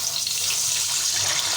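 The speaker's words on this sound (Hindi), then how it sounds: "अब इसमें हम थोड़ा सा पानी डालेंगे" Water poured into hot oil in a cooking pot for sweet rice, a loud, steady hiss and sizzle running right through, close up with no talk.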